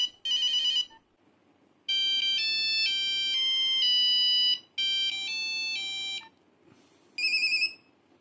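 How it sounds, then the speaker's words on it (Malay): A Nokia 5110 monophonic ringtone plays a quick beeping melody in repeated bursts, separated by short pauses of near silence. "kita tengok dia punya ringtone pula. Okay, dia masih menggunakan monophonic ya"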